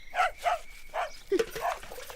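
A dog barks several times in quick, uneven succession, fairly close and moderately loud, with short gaps between the yaps.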